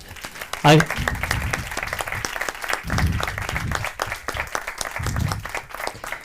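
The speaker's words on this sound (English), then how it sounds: "Please join me with an applause to them." An audience applauds a panel at a medicine and sustainability event, with steady clapping running under a voice that speaks over it throughout.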